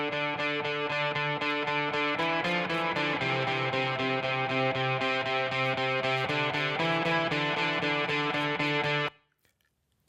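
Layered electric guitar tracks, one played an octave down, ring out together as a thick, distorted chordal wall that stops abruptly near the end with no reverb tail.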